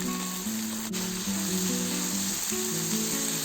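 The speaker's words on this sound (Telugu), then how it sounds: "ఒక నిమిషం ఫ్రై చేసుకోవాలి" Soaked moong dal frying in a pan for cabbage fry, a steady close sizzle running throughout with faint stirring underneath.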